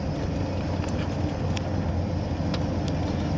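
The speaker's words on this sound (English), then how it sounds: "I'm going to do a quick 0 to 60 here" A Ford F250 pickup truck with a modified 351W 5.8L V8 drones steadily as it accelerates from a slow roll, a constant low engine and road rumble heard from inside the cab.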